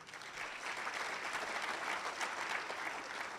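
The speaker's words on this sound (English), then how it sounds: "I love that you can get a round of applause for just getting older." A round of applause from a crowd at a Rotary club luncheon, steady clapping sustained throughout with a dense, even texture and no voices over it.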